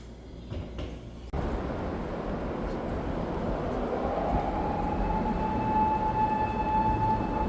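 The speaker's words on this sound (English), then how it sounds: "Good morning from the subway in Osaka." An Osaka subway train runs with a steady, loud rumble and rushing noise after a sudden jump in level, and a faint high whine rises partway through, with no voices over it.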